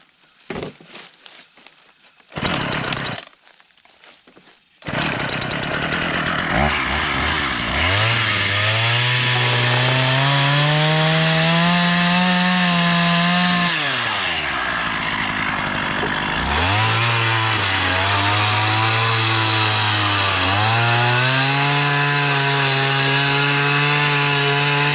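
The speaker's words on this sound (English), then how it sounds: "I'm going to chainsaw the ends a little bit just to make them a little more flush." Chainsaw trimming the ends of wooden boards for a raised bed and compost bin, a pull-start sputter then a loud close engine roar that climbs and dips as it bites into the wood twice.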